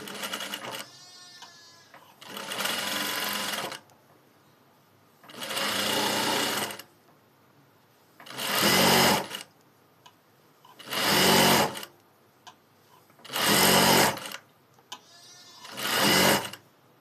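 A sewing machine stitches piping onto a blouse in seven separate bursts of rapid whirring, each lasting one to two seconds, with quiet pauses between them.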